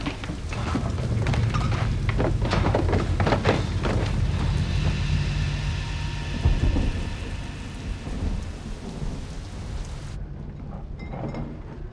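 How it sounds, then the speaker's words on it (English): Heavy rain pours steadily during a thunderstorm, with rolling thunder rumbling through the downpour; the storm sound is loud and continuous with no voices. "So is that rain letting up any?"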